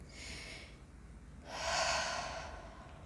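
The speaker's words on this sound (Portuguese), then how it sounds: "E comece a perceber a sua respiração." Deep diaphragmatic breathing, a slow inhale and a longer, louder exhale, close and soft in a quiet room with no talking.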